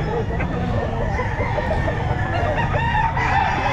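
A nine-month-old Round Head Boston rooster crows at a busy pet market while other chickens cluck nearby and a voice talks over the lively crowd noise.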